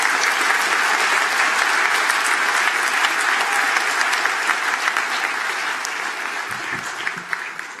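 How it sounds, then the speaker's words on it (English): A commencement crowd applauds civil engineering graduates at a University of Toledo College of Engineering ceremony, loud continuous clapping that fills the hall and tapers slightly toward the end. "Let's have another round of applause for the civil engineering graduates"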